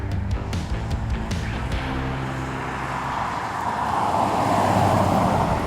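A Hemi-powered classic muscle car drives along with a steady engine rumble and road noise that swells slightly toward the end, heard from inside the car.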